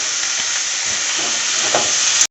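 Bori and tender bottle gourd sizzle and fry steadily in a wok, a dense continuous hiss at close range with faint stirring knocks, ending abruptly.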